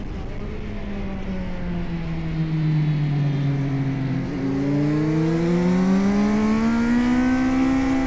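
A £400 Korean sportsbike's engine revs hard on a race track, its pitch dipping briefly and then climbing steadily toward redline, loud and close.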